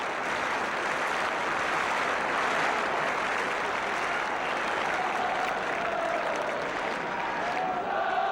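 Football crowd at a Tottenham Hotspur home match applauding steadily, a dense, continuous roar of clapping and cheering filling the stadium throughout with no break.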